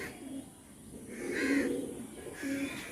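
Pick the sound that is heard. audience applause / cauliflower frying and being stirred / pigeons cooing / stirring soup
pigeons cooing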